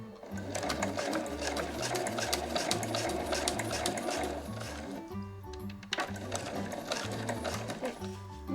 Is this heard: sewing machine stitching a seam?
yes